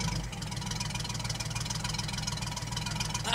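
A 1959 GMC six-cylinder truck engine idles very low and steady, its soft, even, rhythmic chugging heard alone at close range.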